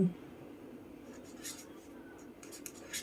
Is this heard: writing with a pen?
yes